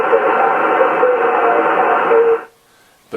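An HF radio station from Austria received on a Trio R1000 receiver comes through as a loud, steady band of broadcast audio with hiss, then abruptly drops to near silence.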